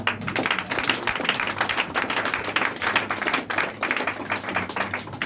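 A church congregation claps in a steady, brisk rhythm to acclaim the Lord, dense overlapping hand claps filling the space for several seconds.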